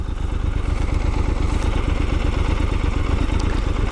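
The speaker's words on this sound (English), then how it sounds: "I love the triple that Triumph has. It's such a cool sounding engine." A Triumph Scrambler 1200 XE's triple-cylinder engine runs steadily up close, a loud, even, throbbing mechanical rumble with fast regular pulses and no other sounds.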